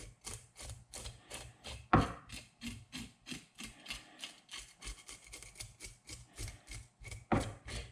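A knife blade scrapes against the grain along a redfin pike's small scales, giving a rapid series of short rasping strokes, close and fairly loud, with a few sharper knocks and no talking.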